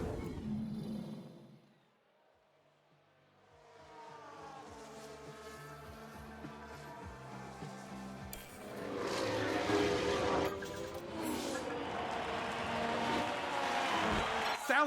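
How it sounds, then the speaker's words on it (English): Formula 1 car engines at speed and a tyre lock-up skid in the F1 Manager 2022 racing game with a 1991 Jordan mod, loud mixed engine noise rising after a quiet dip, with commentary voices underneath. "Sounds like someone's locked up."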